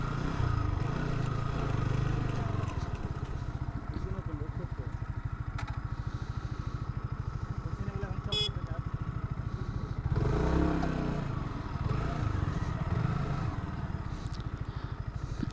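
A motorcycle engine runs steadily up close while riding on a large road in Chittagong, Bangladesh, its low rumble continuous throughout with road noise, scrapes and a brief rise in engine level partway through.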